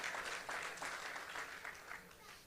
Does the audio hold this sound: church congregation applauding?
yes